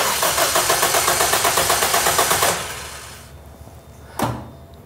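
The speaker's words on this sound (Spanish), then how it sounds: "Ahora voy a acelerar a fondo." A car engine cranks on its starter with the throttle held wide open during a compression test, giving a steady rhythmic chugging for about two and a half seconds. It then stops, leaving quiet hiss and a single short clunk.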